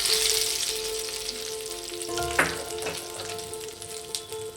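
Hot tadka tempering with curry leaves poured into a fresh chutney, giving a bright crackling sizzle that flares sharply partway through, then settles into a softer fizz with faint stirring.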